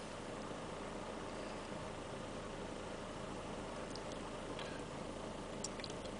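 Steady low rumble of a Chevy HHR engine idling with a check engine light on for codes P0016 and P0017, constant and even throughout, with faint ticking and no voices.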